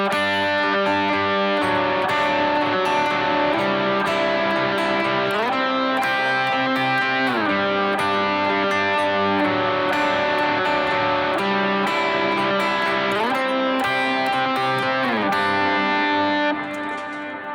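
Rhythm electric guitar with a distorted, effects-laden tone plays fast, driving chords with pick and finger plucking two notes together, keeping a steady pattern for about seventeen seconds with no talking.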